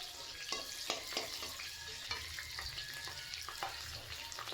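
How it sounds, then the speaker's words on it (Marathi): Cumin, cut green chilli and curry leaves frying in oil for kanda poha crackle with a faint, steady sizzle. Repeated light scrapes and taps of a stirring spoon sound against the pan. "हे सर्व जे मिश्रण आहे ते व्यवस्थित तेलामध्ये भाजायचं आहे"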